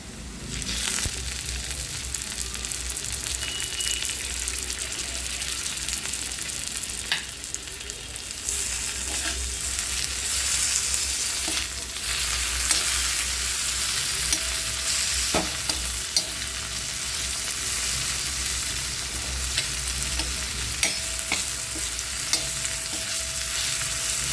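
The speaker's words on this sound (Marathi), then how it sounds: "टॅमॅटो पूर्ण भाजून घ्यायचं" Tomatoes roast with red masala in a pan for matki usal, giving a loud, continuous sizzle and frying crackle, with occasional stirring scrapes throughout.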